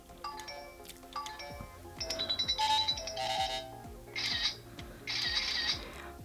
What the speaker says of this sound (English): this little teeny tiny bear phone